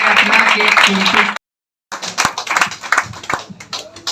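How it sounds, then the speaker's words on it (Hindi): Audience clapping at a motivational success seminar in India, a burst of clapping under voices, a brief cut to silence, then scattered sharper claps continuing. "जबरदस्त तालियां होनी चाहिए सबके लिए।"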